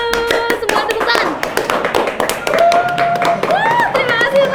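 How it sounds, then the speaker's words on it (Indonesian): An audience in the stands claps along at a live talk show, with dense, close hand claps throughout and a host and a voice talking over the applause. "Semua tepuk tangan."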